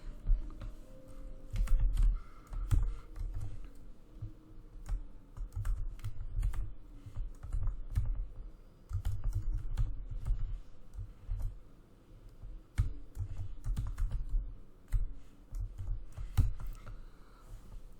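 Steady typing on a computer keyboard during a Python programming lesson, with dense irregular key clicks and occasional heavier keystrokes continuing close up throughout, no voice.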